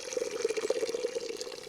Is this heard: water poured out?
yes